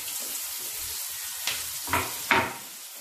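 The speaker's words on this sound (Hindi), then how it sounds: "प्याज को अच्छी तरीके से तेल में भून लीजिए, जब तक ये गोल्डन ब्राउन ना हो जाए" Finely chopped onion fries in hot oil already seasoned with cumin and asafoetida, making a soft, close sizzle. Three louder stirring scrapes come near the end.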